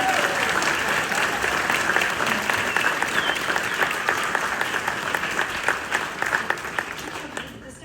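Steady, full applause from a crowd in a high-school auditorium at a winter band concert, dense clapping sustained for several seconds at even loudness before starting to thin out at the end.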